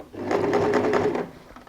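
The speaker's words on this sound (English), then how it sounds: "go back to sewing on the" A sewing machine stitches in the ditch along a quilted cross-body messenger bag with pockets, making one close, steady run of rapid needle clatter for about a second before it stops.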